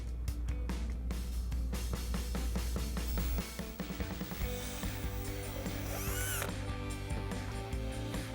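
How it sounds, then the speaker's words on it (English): A power drill bores holes for the grille clips on a 2018-2023 Ford Mustang RTR black grille, giving rapid clattering bursts that settle into a steady, high whirring spin, close and fairly quiet. "Now that we've got our holes drilled"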